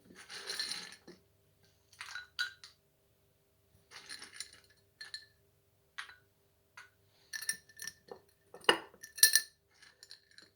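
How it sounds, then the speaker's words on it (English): Crispy soaked-and-dehydrated cashew nuts clink and rattle into a glass in a few separate pours, small hard taps and scatters with quiet gaps between them. "And add a few cashew nuts for some good protein"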